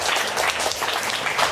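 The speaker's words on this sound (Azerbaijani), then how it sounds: "Kamalə xanımı alqışlayaq" A brief burst of applause from a television talk-show studio audience: many hands clapping together in a close, dense, lively patter lasting about a second and a half.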